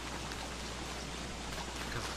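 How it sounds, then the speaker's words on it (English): Steady rain falls in the survival game Don't Starve Together, a constant broadband hiss and patter with no pauses, fairly quiet and heard alone. "Because it's raining so much in my trench."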